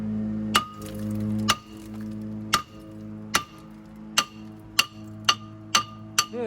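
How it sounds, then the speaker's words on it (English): A big hammer repeatedly strikes a seized front brake rotor on a Chevy Venture, giving about nine sharp metallic clanging blows at a steady, slightly quickening pace, loud and close, each with a ringing tail over a low hum. "You just get yourself a big hammer and you just hammer it"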